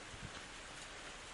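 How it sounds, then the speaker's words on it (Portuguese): Fine, steady rain falling outside an apartment balcony, a soft continuous hiss of drops at low volume with no other sounds. "A chuva me atingiu como um tapa. Fina, mas constante."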